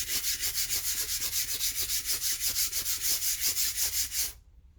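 A stainless steel clad blade is polished on a natural Japanese whetstone, Maruo Oyama Shiro Suita, with rapid rhythmic back-and-forth scraping strokes, close and even, ending abruptly with no talk.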